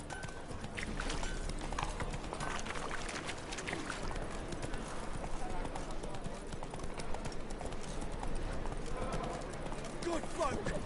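Geralt's horse Roach trots along in The Witcher 3, rhythmic hoofbeats going steadily throughout beneath ambient game sound, with someone speaking briefly.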